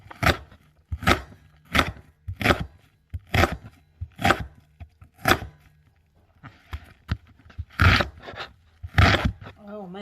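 Regular knife strokes chopping onions on a cutting board, about eight evenly spaced sharp chops, then a looser, faster run of cuts, close and fairly loud, with a cook's voice faintly present between strokes.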